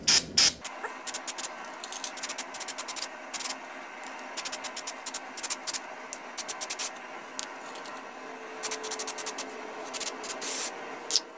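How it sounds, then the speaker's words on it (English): Repeated short hissing bursts of carburetor cleaner spray on a 1977 Evinrude 4 HP outboard carburetor, close by, coming in quick irregular clusters with brief gaps between them. "got some carburetor cleaner. Just have to spray everything down."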